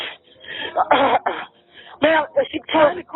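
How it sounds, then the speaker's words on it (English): Over a narrowband phone line, a woman in distress makes a string of rough, throaty coughs and hacking sounds in uneven bursts, close and fairly loud. "she's trying to cough"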